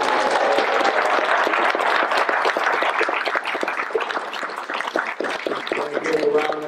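Steady, loud applause from the audience at a fire department graduation and promotion ceremony, many hands clapping together close by, with a few voices near the end.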